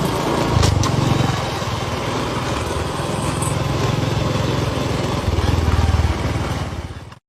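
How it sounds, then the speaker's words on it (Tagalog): Small motorcycle engine running at a steady buzzing drone, rising in intensity near the middle and end as it speeds up, loud and continuous throughout. "agad niyang binilisan ang takbo ng kanyang motor at hindi na pinansin ang iyak"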